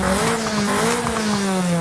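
The stock engine of a Polonez Trapez in the racing game Forza Horizon 5 drones with a loud, buzzy note that rises and dips slightly as it revs, steady and up close with no talk.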